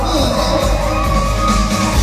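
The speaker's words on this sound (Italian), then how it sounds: "Facciamo gli auguri per Nicolas, un forte applauso." Crowd at a live concert in Latina cheering and whooping for a singer: loud, dense shouts and yells close by, sustained throughout with a tonal musical hum underneath.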